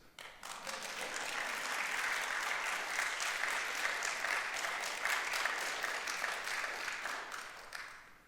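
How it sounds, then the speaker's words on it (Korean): Sustained applause from a large church congregation during a Sunday sermon, steady and dense for several seconds before tapering off at the end. "여러분, 이거는 왜 박수 안 하세요?"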